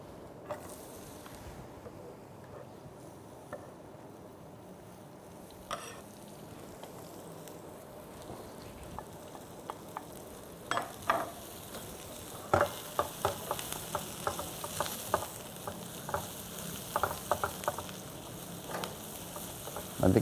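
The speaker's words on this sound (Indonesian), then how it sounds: "Nanti kita biarin sampai setengah matang kurang lebih ya bawangnya." Onions frying in hot oil, a soft steady sizzle that grows busier and crackles more sharply in the second half, with clicks and pops near the pan and no talk.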